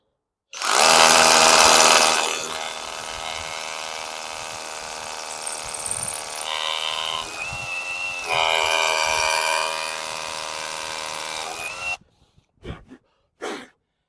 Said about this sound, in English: I'm going to drill another one so that you can actually see this working